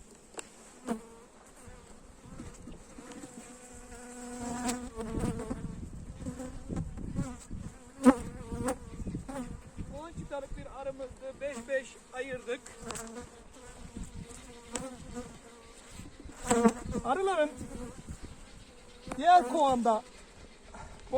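Steady buzzing of many honeybees at a hive during colony splitting, close and continuous, with scattered clicks and knocks and faint background sounds rising and falling.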